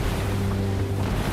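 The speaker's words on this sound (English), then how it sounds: "The waves are breaking all around us." Ocean waves breaking around a tiny wooden boat carrying six men at sea, a constant loud wash of surf and wind with a low steady rumble underneath.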